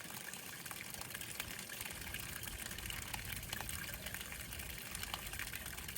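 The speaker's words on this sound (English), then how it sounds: "there's that antifreeze. We're going to let that completely drain out." A steady stream of antifreeze pours and gushes out of a camper tank drain, splashing continuously without pause for several seconds, fairly close by.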